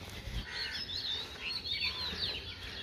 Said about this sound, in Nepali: चराहरूको आवाज